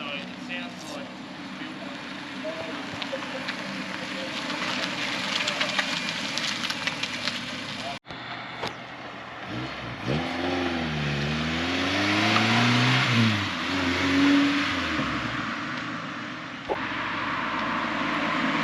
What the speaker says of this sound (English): now pulling in with a Datsun Ute behind it. And also this blue Nissan Z that we saw coming past.